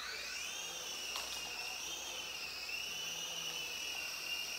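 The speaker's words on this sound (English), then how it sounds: "I'm gonna fly this helicopter and see what you guys think about it" A small Sky Rover Vigilante RC helicopter hovering and flying nearby, its rotor and motor giving a continuous high, wavering whine that rises and dips slightly in pitch, steady and fairly faint throughout with no talk.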